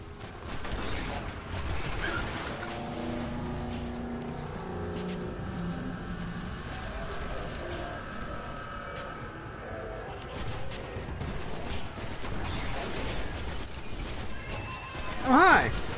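Enemies open fire in Destiny, with scattered gunshot cracks and bursts popping under a steady bed of tonal game sound, while a person talks over much of the clip.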